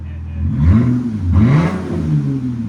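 A RAM 3.6L V6 engine revs up and down several times through an aftermarket muffler, a deep rising and falling drone, loud and close.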